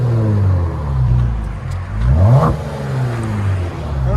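A Kia Stinger GT with a 3.3L twin-turbo V6 revs loudly up close. Its engine tone climbs to a sharp peak and then falls back to a steady, throaty idle.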